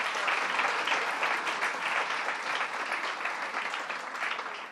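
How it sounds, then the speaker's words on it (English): A crowd applauds state senators at a governor's farm workers bill signing, broad steady clapping that is fairly distant and softer, slowly tapering toward the end. "Let's give them a round of applause."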